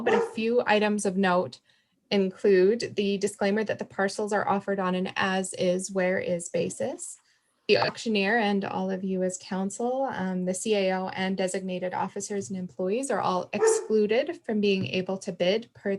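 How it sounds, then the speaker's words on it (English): A puppy barks and yips at home, mixed under a man's steady speech reading auction terms during a town council meeting held remotely. "I'm sorry about my dog."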